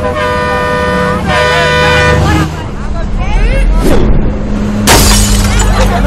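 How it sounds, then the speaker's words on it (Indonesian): A bus window's glass shatters after a thrown stone strikes it, a sharp crashing burst amid loud horn toots and traffic noise, with a second smashing impact following. "Karena kaca bisnya pecah, bis itu kemudian berhenti."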